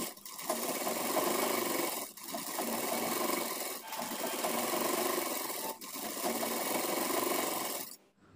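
Sewing machine stitching trouser fabric in steady, fast runs broken by three short pauses, close and continuous, ending abruptly.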